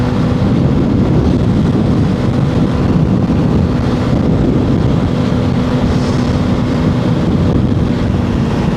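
Riding a TVS 4V motorcycle along the Chittagong–Dhaka highway on a cold winter morning, a loud, steady roar of wind buffeting the microphone merges with low engine rumble, unbroken throughout.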